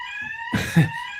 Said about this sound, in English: Fire alarm's just gone off in the building.